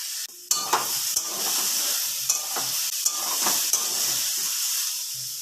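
Onions fry in hot oil in a pan, a constant bright sizzle close by, punctuated by several sharp clicks and scrapes of stirring at irregular intervals, with no talking.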